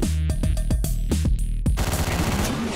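An AK rifle fires in the top-down shooter Hotline Miami: a quick string of loud, close gunshots in a fast, uneven rhythm, then a dense rattle of rapid fire, with no voices.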